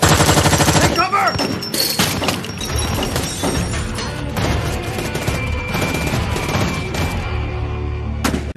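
Rapid gunfire in a TV-drama shootout crashes out in dense, loud bursts with shattering impacts, mixed under a steady music score throughout.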